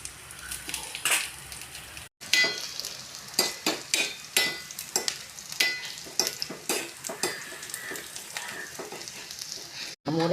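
Shallots and dried red chillies frying in hot oil in a pan, crackling sizzle broken by repeated sharp spoon-scraping strokes in an uneven stirring rhythm, close and alone.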